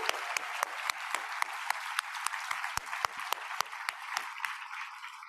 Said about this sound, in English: Let's give Sharon another round of applause.